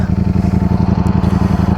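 Ducati Streetfighter V4 S motorcycle engine, a loud close rumbling V4 running with fast rhythmic pulsing throb, steady for under two seconds.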